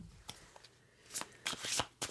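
A Mystery Traveller tarot deck is shuffled by hand at close range. The sound is a series of quiet, sharp riffling bursts that grow denser toward the end, and no one speaks.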